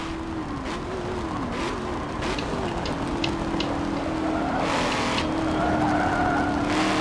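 A race car in Forza Motorsport 7 skids around curves, a steady engine drone overlaid with hissing tire squeal that rises and falls through the turns, continuous and loud.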